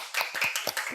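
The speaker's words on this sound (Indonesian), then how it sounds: "Tepuk tangan." Scattered hand claps from a few people in a podcast studio welcoming a guest, about half a dozen distinct claps close to the microphone, heard alone without speech.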